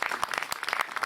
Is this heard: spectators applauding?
yes